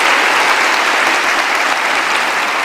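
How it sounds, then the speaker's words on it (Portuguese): A church congregation claps in a loud, sustained round of applause, dense and steady throughout, with no voices rising above it. "Podemos aplaudi-lo por isto?"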